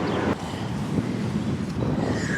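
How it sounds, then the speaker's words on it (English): Gusty wind buffets the microphone outdoors in a garden as a storm approaches, a steady loud rush with a sharper burst near the start and no voices. "And a big gust of wind just blew my hat off and it started raining."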